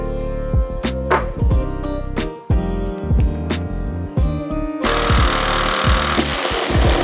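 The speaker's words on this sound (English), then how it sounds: "So we multi-purpose the sawzall for the metal cutting and wood." A Sawzall reciprocating saw cuts through wood during a home golf simulator build, with a harsh, loud buzzing burst late on. Loud music plays throughout.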